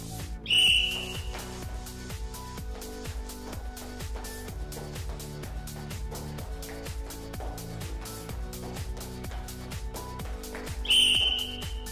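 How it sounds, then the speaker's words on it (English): A sharp whistle blows once at the start and again near the end of a roller derby fitness test, with steady rhythmic ticking beats running underneath. "before the whistle went"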